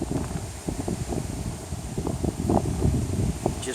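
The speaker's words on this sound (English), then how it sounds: "This wind blowing like this is awful nice." Wind gusting steadily outdoors beside Kentucky Lake, a broad rushing wash with rustling surges that swell and fade over a few seconds, fairly loud against the microphone, with no talking.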